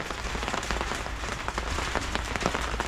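Heavy rain pours down outdoors on farmland in the Philippines, a steady, dense hiss with scattered drops pattering close by.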